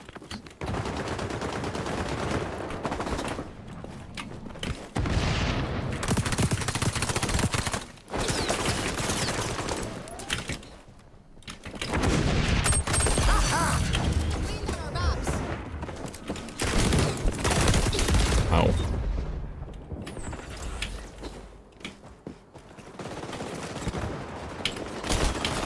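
Dense gunfire from the shooter game The Finals rattles in sustained automatic bursts, broken by brief pauses and near-silent gaps, with no talking over it.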